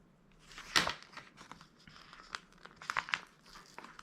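Planner paper is trimmed with a crisp crinkling snip, followed by scattered soft rustles and small cuts, close and quiet.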